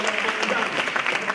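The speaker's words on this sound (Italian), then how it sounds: "Propongo un applauso per Madonna Filippa." Brief burst of dense audience applause at a staged theatre performance, continuous clapping from a crowd at even loudness throughout.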